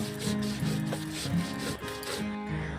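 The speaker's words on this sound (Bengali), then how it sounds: "মা এখন শুটকি মাছ লঙ্কা রসুন শিলনোড়ায় খুব ভালো করে বেটে নিচ্ছে" Dried fish, chilli and garlic are ground on a flat grinding stone with a stone roller, making a continuous close, gritty rubbing in rhythmic back-and-forth strokes.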